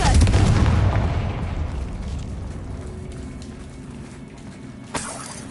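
Bombarda and Confringo spell explosions in Hogwarts Legacy: a heavy booming blast rumbles loudly at the start and slowly fades, with a sharper crack near the end, no voices.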